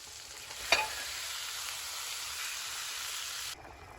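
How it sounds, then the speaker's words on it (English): A pan of lemon juice and butter sizzles loudly and steadily during deglazing, with one short clink of a utensil near the start and a sudden drop in the sizzle near the end. "Now we're gonna deglaze the pan with that half of a lemon."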